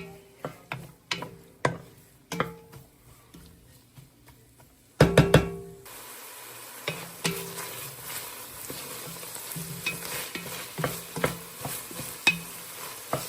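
Onions and celery cook in a soup pot with a steady low sizzle, broken by repeated stirring clacks of a utensil against the pot and a louder scraping burst midway; no voices.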